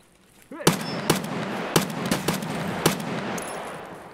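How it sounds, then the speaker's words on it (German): Gunfire in the video game Escape from Tarkov on the Customs map: several sharp, loud shots spaced unevenly over a steady background din, with no talking. "Keine Ahnung, wo die Schüsse jetzt alle hingegangen sind"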